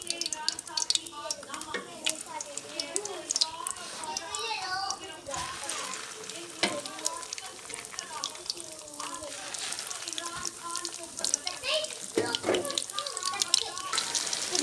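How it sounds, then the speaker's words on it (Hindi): Aloo kebabs fry in hot oil with a continuous crackling sizzle and spattering pops close by, while a voice talks over the frying. "ये देखिए ऑयल हमारा गर्म हो गया। अब इसमें हम ये कबाब डाल देते हैं।"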